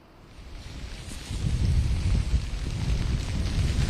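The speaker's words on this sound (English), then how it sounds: "you can witness the heavy rains and wind speed" Heavy rain and strong wind lash the seafront at Girgaon Chowpatty, Mumbai, during a cyclone, a dense broadband roar that swells after the first second and stays loud and steady with gusty surges.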